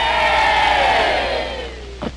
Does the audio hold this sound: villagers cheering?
yes